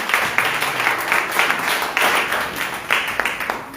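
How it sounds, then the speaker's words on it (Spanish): Congregation clapping in a church service, a lively, fairly close round of applause with rhythmic surges, as if the crowd is clapping roughly in time, and no speech over it. "Denle fuerte el aplauso, puede tomar su asiento."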